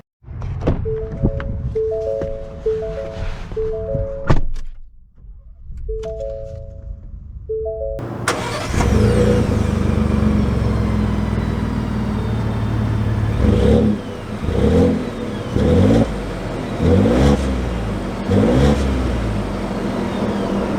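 A 2021 Ford F-150 Super Cab pickup with the 2.7 EcoBoost V6 starts up after some quiet clicks, then settles into a steady, loud engine hum inside the cab with repeated rises in revs as it drives off.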